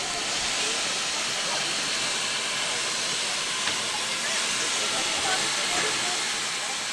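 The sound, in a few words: Baldwin steam locomotive hissing at station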